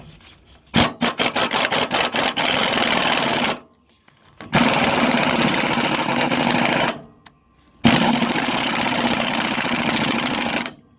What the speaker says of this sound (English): Come on, air compressor.